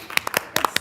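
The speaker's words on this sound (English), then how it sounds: "We're clapping for each other and ourselves." A few people clap briefly in a small room at a meeting, several sharp scattered claps over under a second.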